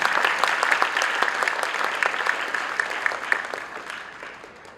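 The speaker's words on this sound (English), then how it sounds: "She deserves a huge applause." Audience applause fills a hall after a Bharatanatyam recital, steady dense clapping close by that holds for several seconds and slowly tapers off.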